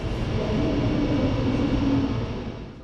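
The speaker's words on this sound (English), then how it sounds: "here's our train, a 6-car RABe 512 IR Dosto unit built by Swiss manufacturer Stadler" A Stadler RABe 512 IR Dosto six-car double-decker train arriving at a Swiss station, a steady low rumble and rolling hum that swells slightly then eases off, with no talk over it.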